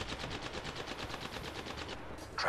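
Rapid automatic gunfire in the video game Apex Legends rattles in a steady, fast stream of loud shots for about two seconds, then cuts off before a brief burst of other game noise at the end.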